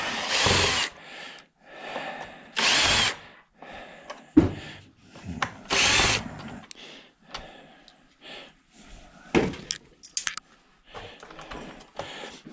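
A cordless drill backs out Phillips screws from an upright vacuum being scrapped, in several short whirring bursts with pauses between, close and fairly loud.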